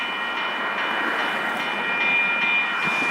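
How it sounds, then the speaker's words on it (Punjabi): A metro train draws near past a crossing, its steady, loud broadband rumble rising slightly, with a thin high-pitched whine running throughout. "ਆਹ ਦੇਖੋ ਟ੍ਰੇਨ ਆਉਂਦੀ ਆ"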